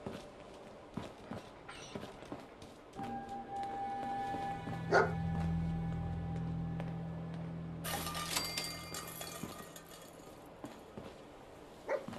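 A dog barks in the Fallout 4 video game, a few scattered yips over soft footsteps and ambient game sounds, with a brief tonal game effect mid-way.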